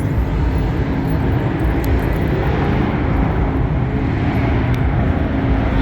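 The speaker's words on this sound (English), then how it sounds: "That's the guys doing burnouts. It's echoing off that building." Cars doing burnouts at the SEMA show echo off a parking garage as a loud, continuous roaring wash of engine and tire noise, dense and unbroken, with no talk over it.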